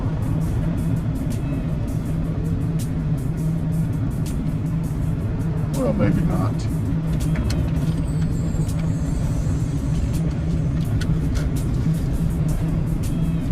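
Steady road traffic rumbles around a car stuck in a jam, a constant low engine drone with occasional passing vehicles, and someone talks briefly inside the car.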